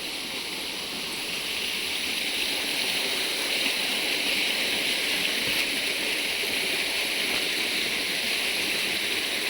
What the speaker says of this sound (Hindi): तो ये झरना है जिसका पानी झील में जाके मिल जाता है।